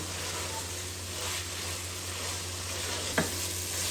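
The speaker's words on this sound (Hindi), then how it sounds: "तो इसमें मैं थोड़ा सा इनको फ्राई करके निकाल लूँगी" Whole spices and chillies fry in hot oil for achari aloo with a steady, even sizzle. A single sharp tap of a utensil sounds near the end.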